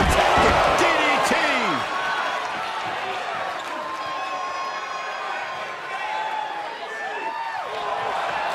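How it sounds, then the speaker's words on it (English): Arena crowd noise in the wrestling video game Def Jam 2K22, a loud sustained roar with a sharp impact thud near the start, continuous and dense throughout. "The sound of this crowd is deafening, and he's asking for more."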